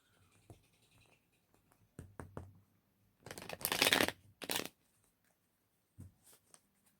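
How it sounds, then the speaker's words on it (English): Old, worn tarot cards being shuffled up close: a few soft taps and riffles, then two louder bursts of rapid flapping, with quiet gaps between. "These cards are starting to get harder to shuffle the older they get."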